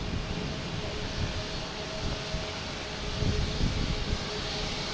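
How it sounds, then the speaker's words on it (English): A JetBlue Airbus A321 comes in to land at Boston Logan, a steady, fairly quiet jet drone with a faint engine whine that swells slightly toward the end. "Next to come in is a JetBlue Flight 352 coming in from Orlando,"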